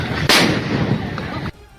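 A single heavy blast of a grenade rings out during a street protest, then a brief rumbling tail is cut off abruptly.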